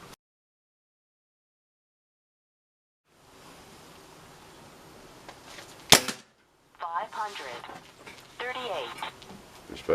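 A Webley & Scott VMX spring air rifle fires at a target, giving a single sharp loud crack midway, with people talking afterward over a hissy background.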